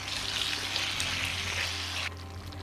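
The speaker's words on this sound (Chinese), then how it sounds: "加入食用油，放入蒜末、姜末，爆香。 接着再加入番茄片。" Minced garlic, ginger and tomato slices fry in oil in a preheated clay pot, making a bright continuous sizzle that drops off abruptly near the end. A low hum runs underneath.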